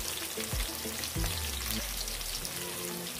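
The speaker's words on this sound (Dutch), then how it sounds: "warme vis wil ik lekker erin bakken." Fish frying in hot oil in a pan, a continuous crackling sizzle with dense popping spatter, punctuated by a few low knocks and clatters from the pan, fairly quiet and with no talking.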